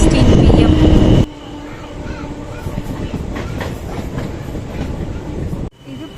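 A passenger train running on rails near a station, a steady loud rumble and rattle of wheels continuing throughout after a louder burst at the start.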